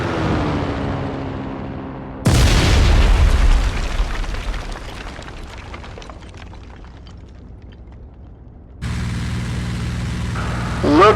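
Bombs dropped from a fighter plane explode in a World War II flight game over the Battle of the Bulge, a sudden loud blast with a rumbling decay, framed by steady aircraft engine drone before and after.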